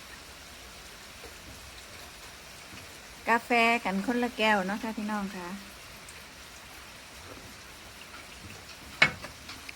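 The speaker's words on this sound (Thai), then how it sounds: "กับบรรยากาศฝนตกค่ะพี่น้องค่ะ" Rain falls outside a house in a steady, soft hiss throughout. Someone talks briefly over it partway through, and a sharp tap sounds near the end.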